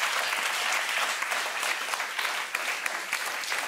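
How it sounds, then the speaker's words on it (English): An audience gives author Urvashi Bhutalia a warm round of applause at an arts discussion event, a fairly quiet but sustained wash of many clapping hands. "Please give her a warm round of applause."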